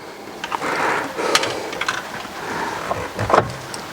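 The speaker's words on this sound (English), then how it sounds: "Steering wheel removed." A Mercedes steering wheel is worked loose and pulled off its spindle, producing close rubbing plastic scuffs, light knocks and a firmer clunk near the end.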